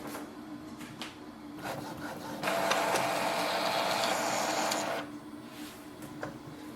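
An Epson XP5200 inkjet printer runs a print head cleaning cycle, with soft mechanical clicks and ticks, then a louder steady whir lasting a few seconds before it drops back to quieter intermittent clicking.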